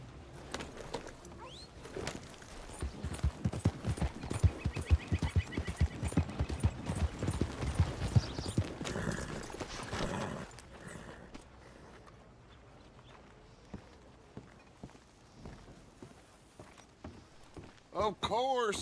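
Horse hooves clip-clopping in Red Dead Redemption 2, a quick, steady run of hoofbeats with a whinny, joined by game voices and then fading into quieter ambience with birds.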